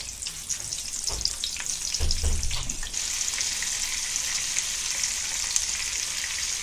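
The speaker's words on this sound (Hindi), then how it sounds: "हमने तेल डाले, अभी मिर्ची फ्राई करेंगे और इसी तेल में हम मच्छी फ्राई करेंगे" Green chillies spit and sizzle in hot oil in a pan for a Kokani meal. A few dull knocks from the pan come early, then the frying settles into a continuous bright hiss.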